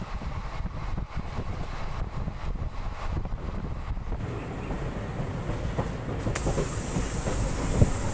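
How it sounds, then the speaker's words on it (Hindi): The Sabarmati Express passenger train rolls along broad-gauge rails near Abu Road, giving a continuous loud rumble with rhythmic wheel clatter and wind noise, heard close from inside the coach with no talk. "हमारी train Abu road railway station पहुंच चुकी है"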